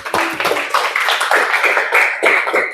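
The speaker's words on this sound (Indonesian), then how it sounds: "Tepuk tangan dulu." A small class of teacher trainees in an informatics session claps briefly, with uneven, close-sounding hand claps and some chatter mixed in.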